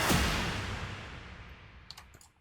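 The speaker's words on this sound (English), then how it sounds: "The first one is a hit that sounds like this on its own." Trailer-style music hit produced in FL Studio, soaked in reverb: one sharp impact at the start followed by a long, wide, slowly decaying tail that fades out over a couple of seconds, heard alone.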